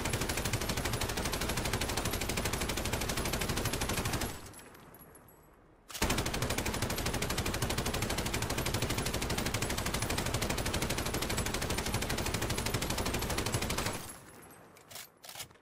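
Sustained, rapid automatic gunfire in the Warzone video game as shots are fired repeatedly at specific spots, loud and dense, breaking off briefly around the fifth second, then resuming before fading near the end.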